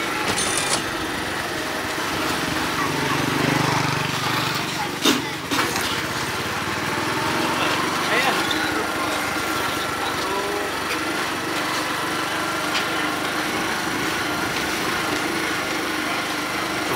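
A small motorcycle engine drones steadily while riding along a road near Lake Ahémé in Benin, a constant buzzing hum with wind noise and a brief clunk partway through.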